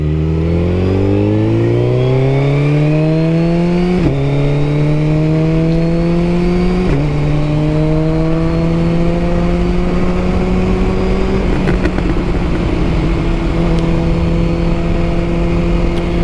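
A 2022 Suzuki Hayabusa motorcycle engine revs loud and close while riding, its pitch climbing in steady pulls with clear gear shifts, then settling into a sustained cruising drone over wind noise; no talking.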